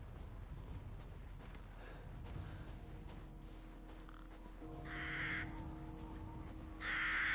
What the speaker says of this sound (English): Isn't this where all the birds are?